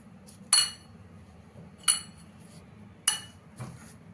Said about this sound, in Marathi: आता थोडं लिंबू पिळून घेऊया आणि पैकी हलवूया